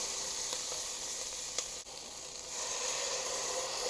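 Onions sizzle steadily in a hot pan with garlic, a quiet continuous frying hiss with a few faint pops and a brief stir.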